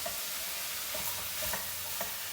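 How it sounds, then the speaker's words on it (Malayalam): Spinach and grated coconut thoran being stirred in a pan, soft scraping strokes and light taps every half second or so over a low sizzle, close and quiet with no talking. "ആവശ്യത്തിന് ഉപ്പ് ചേർത്തതിന് ശേഷം വീണ്ടും ഒന്ന് ഇളക്കി കൊടുക്കും"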